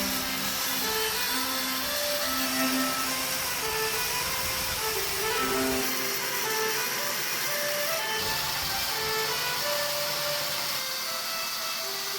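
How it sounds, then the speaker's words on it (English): A forged steel gouge chisel is roughly ground on a grinder, giving a steady, loud, continuous whine with a rasping edge that runs the whole time, with slight shifts in pitch as the blade is moved. "I'm gonna roughly grind it before I bend it."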